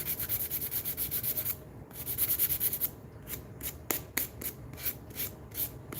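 A wooden mallet being rubbed and wiped down with an acetone-soaked cloth, giving rapid, rhythmic scrubbing strokes close up, followed by slower, irregular rubs with soft pauses, quiet and without talk.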